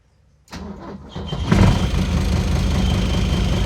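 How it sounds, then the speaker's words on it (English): A Mercedes S123 engine with a slipping belt cranks and catches after a short quiet moment, then settles into a close, steady idle carrying a persistent raspy whine. "It seems like the belt is slipping."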